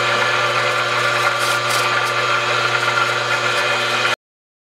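A power tool cutting flats on a shaft, a loud steady buzzing drone with a harsh chattering edge, close and continuous for about four seconds before cutting off abruptly into silence.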